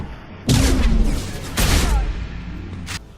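Two heavy point-blank shotgun blasts from an upgraded shotgun in the Mass Effect 2 video game, loud bursts with reverberant tails about a second apart, then a sharper short report near the end.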